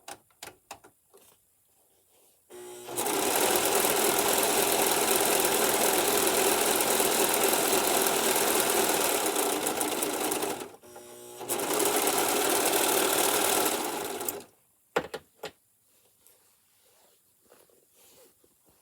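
A Singer Profinish serger runs fast and loud while finishing fabric edges, two long steady whirring stretches separated by a brief pause, with quiet clicks and handling noises before and after.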